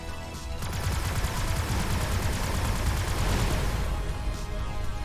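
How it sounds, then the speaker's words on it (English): Continuous rapid weapon fire from spacecraft in the space shooter Everspace 2, a dense, steady stream of shots and rumbling booms at even loudness for several seconds with no talk. "Who's shooting at me?"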